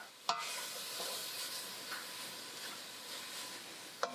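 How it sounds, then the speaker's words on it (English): A spoon stirs Worcestershire sauce and tomato paste in a hot pan, giving a soft continuous sizzle with scraping strokes and two sharp clinks near the start and end. "you'll add your Worcestershire, your tomato paste, kind of start stirring that around"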